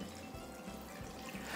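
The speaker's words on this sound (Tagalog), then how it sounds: "maglalagay lang ako ng tubig dyan" Water is poured into a wok of simmering pork ribs for kaldereta. It sounds like a close, soft pour with gurgling pulses and trickles, with no talking over it.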